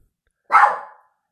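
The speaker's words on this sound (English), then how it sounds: "that was Maggie, because she barks at everything" A single sharp bark from a house dog, close and loud, lasting about half a second and followed by silence.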